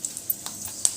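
Tempering seeds sizzling in hot oil for brinjal curry, a brief crackling fry with light stirring clicks, close and fairly loud, no voices.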